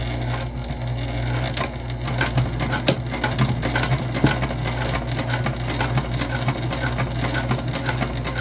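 A sewing machine runs steadily while basting a sling bag, its fast, regular needle strokes filling the whole stretch with a close mechanical chatter over a low motor hum.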